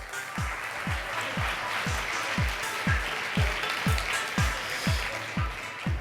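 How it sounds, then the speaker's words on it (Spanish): An audience at a talk applauds to welcome a speaker, a sustained wash of clapping from a crowd, accompanied by a steady, regular low thumping beat. "Demos la bienvenida con un fuerte aplauso a Alfredo Romeo"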